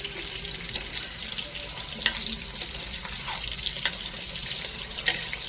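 Katla fish rubbed with salt and turmeric frying in a pan, a steady low sizzle with faint crackle and a few sharp utensil clicks, moderately quiet and continuous with no talking.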